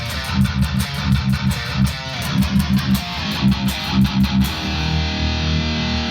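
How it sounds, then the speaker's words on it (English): An electric guitar plays a heavy tone through a classic Super Overdrive pedal, chugging rhythmic strums with distorted sustain for several seconds before a final held chord rings out, loud and close. "And then my heavy tone, I just add the classic Super Overdrive."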